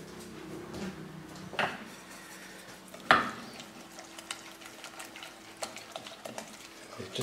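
Vegetables with maple syrup cook in a pan on a hob, giving a soft, faint sizzle with occasional scraping stirs and a couple of sharper clatters of a utensil against the pan.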